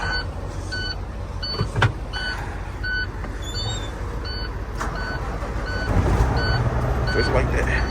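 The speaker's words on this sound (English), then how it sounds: "Let me start my truck up." An owner-operator's semi truck starts up, with a string of evenly spaced electronic warning beeps over a low engine hum that swells louder toward the end.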